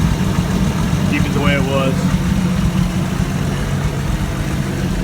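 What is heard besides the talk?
truck engine idling, loose exhaust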